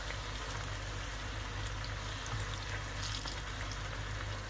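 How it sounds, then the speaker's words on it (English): Aubergine slices fry in hot oil with a soft, continuous crackling sizzle, faint and even throughout, with no talking. "while the aubergines are frying"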